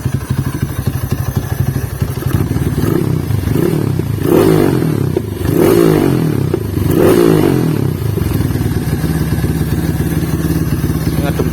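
Motorcycle fitted with a 40cm AWR aftermarket exhaust revving from a steady idle, three throttle blips rising and falling over a continuous low, fairly muffled engine drone, loud and close.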